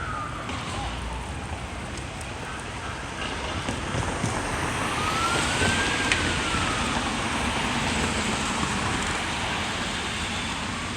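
Montreal ladder truck and police car responding code 3 downtown, a siren wailing at mid distance over steady wind and street noise, sweeping up and down as the vehicles pass.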